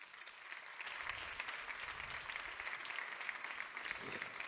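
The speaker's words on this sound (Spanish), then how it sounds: "Un aplauso para él, por favor." An audience applauds mentalist, speaker and writer Anthony Blake at a campaign presentation, a steady wash of clapping filling the hall alone for a few seconds.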